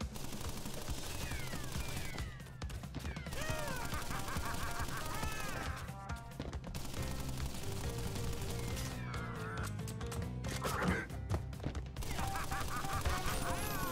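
An enemy in Crash Bandicoot N. Sane Trilogy on Nintendo Switch fires rapid, continuous gunfire over busy game music and effects, in loud sustained volleys with brief gaps.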